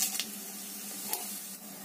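Cumin seeds dropped into hot oil already holding a bay leaf, a steady close hiss and sizzle with a couple of brief louder spits, no voices.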